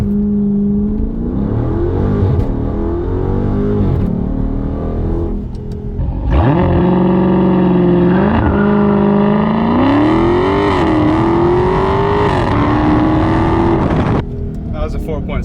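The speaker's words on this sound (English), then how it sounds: "We're gonna do one last launch and we'll see what we get on 3000 RPM." Dodge Charger Daytona 392 doing a launch control start at 3000 RPM: a steady idle-hold rumble, then a loud surge of acceleration with rising engine pitch through gear shifts, heard from inside the car.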